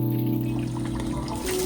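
Colorless, slightly scented hot spring water at about 42 degrees is poured over the body in a private open-air family bath at Iwai Onsen in Tottori, a brief continuous splash and trickle over a steady tonal hum.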